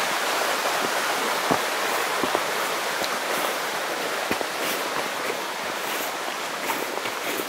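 Steady rushing water of a creek flows continuously, broadband and fairly loud, with occasional soft knocks and splashes in the mix.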